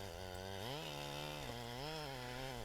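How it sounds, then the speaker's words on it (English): A chainsaw runs loud and steady while cutting low into the trunk of a 23-inch cherry tree with a split crotch and rot, its engine pitch dipping and rising under load. "I cut this about as low as I can"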